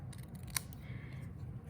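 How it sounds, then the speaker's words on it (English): A single sharp snip of scissors cuts through a strip of cardstock while flagging its end for a handmade card, heard close and quiet over a low steady hum. "So the easiest way to flag the end is to come in with your scissors like that"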